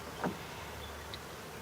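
Honey bees near an opened hive give a faint, steady drone, with one brief louder buzz early on as an insect passes close by.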